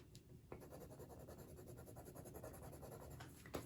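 Soft, steady scratchy strokes of a colored pencil shading back and forth on paper at medium pressure, close and quiet, with a continuous rhythmic texture.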